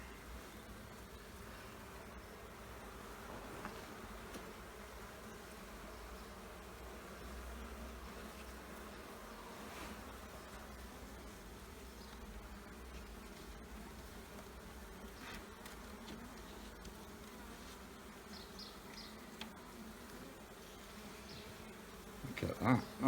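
Honey bees drone in a steady, continuous buzz around an open beehive with frames of emerging brood, close and low-level throughout, with a few louder bumps near the end.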